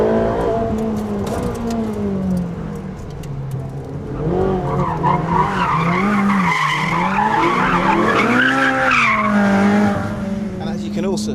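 A Ferrari 458 Speciale brakes hard on a race track, its engine note sweeping down through gear changes alongside tire squeal, close and fairly loud, with a voice speaking over it.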